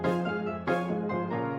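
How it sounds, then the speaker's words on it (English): Short string stabs from a Bollywood song production hit in a few punchy bursts with bright attacks and quick decays, playing alone without talk. "Adding some string stabs on this."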